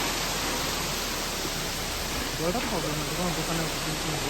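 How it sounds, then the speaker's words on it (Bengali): A small roadside waterfall on a hill road between Kalimpong and Lava pours steadily as a broad, even rush of water, with someone talking briefly over it near the end. "এখানে একটা দেখো সুন্দর একটা ঝর্ণা মতো যাচ্ছে"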